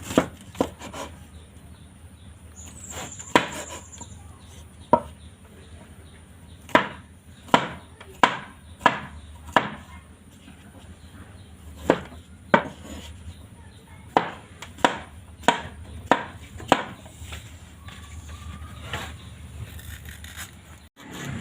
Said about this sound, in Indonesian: Iris serai, daun jeruk purut diiris halus